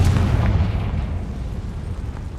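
A Confringo fire spell explodes in the game Hogwarts Legacy: one loud, booming blast right at the start, then a rumbling roar that slowly fades. No one speaks.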